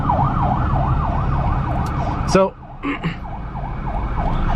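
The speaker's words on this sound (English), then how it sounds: "I got this big, huge ambulance behind me" A wailing ambulance siren sweeps up and down steadily over traffic rumble in the Philippines, cut briefly by a sharp clunk and a short spoken word before the wail resumes.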